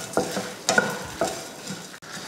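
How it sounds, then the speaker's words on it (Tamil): Fenugreek, poppy seeds and dried red chillies fry in a little oil, a soft steady sizzle with a few sharp stirring scrapes at intervals, close by and with no voices. "எண்ணெய் விட்டு இதை வறுத்து எடுத்துடலாம்."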